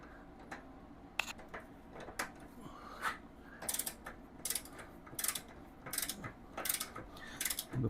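Rear sprocket bolts on a Lifan KPT 400 motorcycle are tightened with a torque wrench, giving a series of close ratcheting clicks and metallic taps in irregular bursts over a quiet background.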